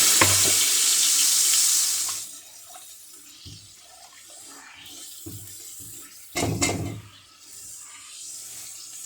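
A loud burst of hissing sizzle as water is poured into hot oil for beef paya fades into softer crackling frying, with a few clinks and a brief louder splash of sizzle later on.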